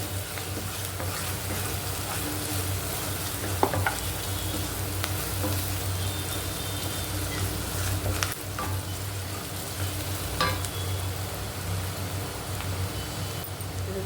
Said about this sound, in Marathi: कांदा आता आपला ब्राऊन होत आहे.